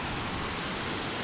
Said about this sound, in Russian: Ой, какие волны!